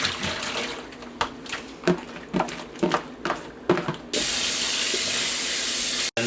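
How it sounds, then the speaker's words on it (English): Water runs from a tap over salted cabbage being rinsed for kimchi, first in short splashy bursts as it is handled, then as a loud steady gushing stream near the end. "We're going to rinse the salt out and let it dry."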